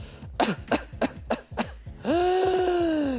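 Voice imitating whooping cough: five sharp, rhythmic coughs followed by a long, loud, strained whooping inhalation, produced alone at close range.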